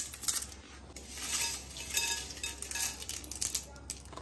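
Cornflakes are scattered over a homemade sweet dish in a village kitchen, giving a dense, dry crackling patter and light clinks that continue steadily for several seconds, close by with no talk.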